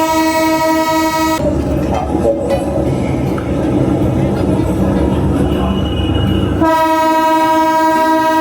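A train rolls across the new Kosi river rail bridge, a rail crossing about 2 km long. A loud, close rumble of wheels and cars runs through the middle, with a long sustained horn blast at the start and again near the end.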